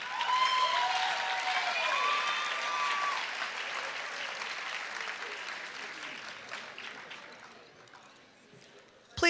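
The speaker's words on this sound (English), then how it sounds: "One last round of applause, please." An audience at the Lorain High senior awards ceremony gives a last sustained round of applause, dense clapping mixed with a few whistles and cheering voices, tapering off gradually before a sharp noise at the very end.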